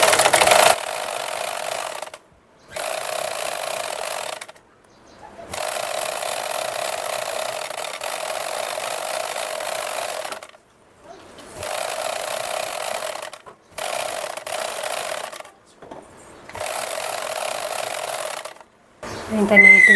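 A sewing machine runs in several steady bursts of stitching, sewing thread piping with a normal presser foot for a blouse neckline, with brief pauses between runs and no talk.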